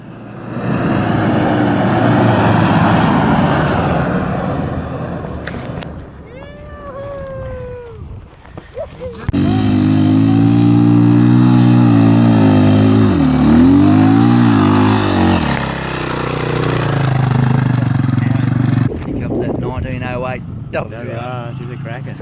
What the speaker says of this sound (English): This particular sand dune required 4 attempts to get the vehicle up the rutted and twisty